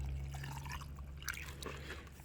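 Water is poured into a container holding soil to make a soil sample, giving a faint, brief trickle and splash close by with no talking.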